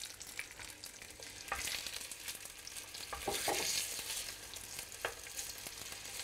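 Veal cheek sears in a hot pan for braising, giving a steady close sizzle with scattered spatter pops and a louder burst midway, no voices.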